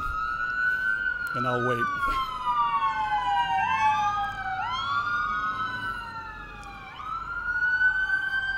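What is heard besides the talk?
ambulance sirens passing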